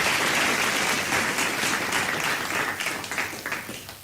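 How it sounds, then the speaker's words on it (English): Applause from a debate audience thanking the sponsors, a dense, steady wash of many hands clapping at close range that thins and grows more uneven toward the end. "So this is a round of applause to all our sponsors."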